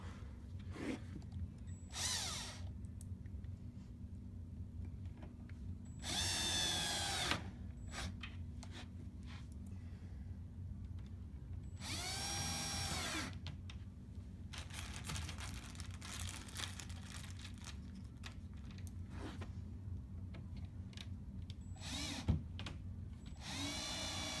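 A power drill drives screws into a Jordan shoebox in three separate whirring bursts, each a few seconds long, with quiet handling sounds in between.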